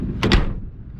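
The door of a 1985 Chevrolet Astro van swings shut in a single close, solid thud with a short double impact, then quiet background.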